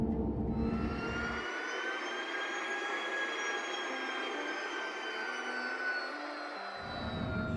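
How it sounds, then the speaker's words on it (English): Steady rumble and whine of a tram gliding from the spaceport into downtown Area 18 in the Star Citizen space game, a continuous loud engine-like drone with a low hum that drops out midway, no talking. "this tram ride from the spaceport into downtown Area 18, it never gets old"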